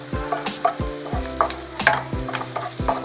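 Tofu pieces frying and being stirred in a pan, with repeated scraping strokes of a utensil over a steady close sizzle, several strokes in quick succession and no talking.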